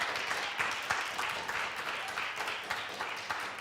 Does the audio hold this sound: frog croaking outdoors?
no